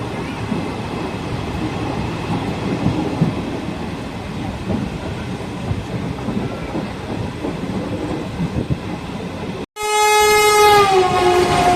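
The Coimbatore Jan Shatabdi Express train roars past close by with steady rumbling and rattling wheels, then a loud, sustained horn blast sounds near the end.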